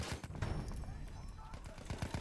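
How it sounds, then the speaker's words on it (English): Enemy machine gun in Battlefield 1, a quiet stream of automatic gunfire rattling in rapid bursts amid battlefield noise and some talk. "Enemy machine gun."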